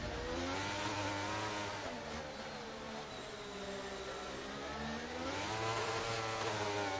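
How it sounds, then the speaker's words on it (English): A racing car engine revs hard and climbs through rising, falling and rising pitch sweeps, a continuous moderately loud whine heard alone during a race at Mexico. "Oh, listen to that car revving out."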